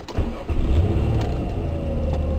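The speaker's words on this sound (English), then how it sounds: "I'm just gonna sit and I'm gonna let my car warm up." A car engine starts up on a cold day and settles into a steady, close, low idling rumble as it warms up, with no talking.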